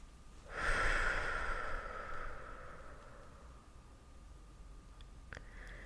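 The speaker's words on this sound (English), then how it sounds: "we take another deep breath" A single deep breath, drawn close and slow, swells quickly and then fades away over a couple of seconds, with no talking around it.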